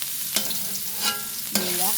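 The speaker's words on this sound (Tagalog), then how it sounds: "So, lalagyan natin ang ating luya muna, luya. Para maluto." Ginger sautés in hot oil for tinolang tahong, a close, steady sizzle with a few sharp stirring scrapes of a utensil against the pan, no voices.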